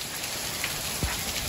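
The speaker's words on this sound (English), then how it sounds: "first thunder and lightning, now hailstorm" Heavy hailstorm pouring down after thunder and lightning in California, a dense, steady hiss of stones striking surfaces close by with no pause, plus one brief low rumble near the end.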